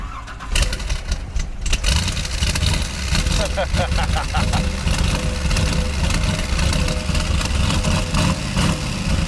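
A 572 big block in a 1968 Corvette starts with a loud burst and settles into a steady, rough, close idle that runs throughout, with faint bird chirps behind it.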